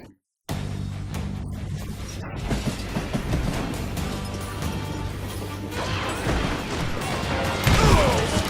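Heavy rumbling train noise from the video game Call of Juarez: Gunslinger, with clanking metal and a rising rush toward the end, loud and continuous after a brief silent start.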